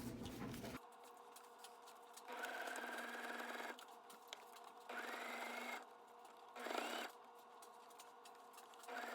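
Sewing machine running in several separate bursts of steady whirring stitching while top stitching a fabric scrunchie, with short quiet pauses between the runs.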